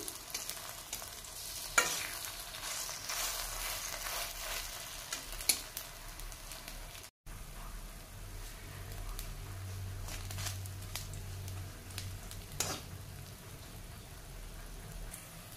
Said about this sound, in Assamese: একেবাৰে কম তেলত ভাজিছোঁ